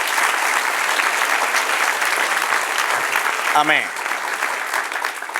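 A church congregation at a Spanish-language service claps for the Lord, steady, full applause throughout, with a short spoken voice breaking in midway.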